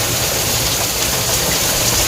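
Heavy rain falling at a concrete work site, a loud, dense and continuous roar with no breaks and no talking.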